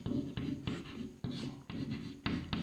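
Chalk taps and scrapes across a board during a chemistry lecture, a series of short, close strokes with brief pauses between them, faint and with no voice over them.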